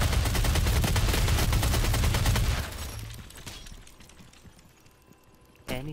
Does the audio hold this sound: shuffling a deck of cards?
no